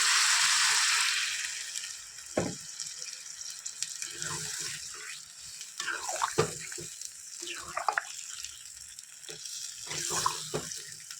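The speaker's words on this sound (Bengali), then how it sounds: "আরও একটু জল দিতে হবে।" Water is poured from a tap-like stream into a pot of browned meat curry with fried cauliflower. A loud rush opens the clip, then lighter splashes and clinks follow while cooking sizzles faintly.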